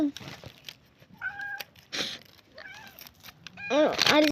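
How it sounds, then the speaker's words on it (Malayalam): A cat meows several times in short, separate calls, fairly close but quiet, with people talking in between and around the cries. "പൂച്ച വന്നിട്ടുണ്ട് ചേട്ടാ"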